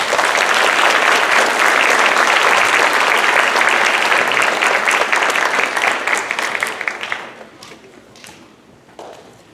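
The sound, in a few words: audience applause for elementary award students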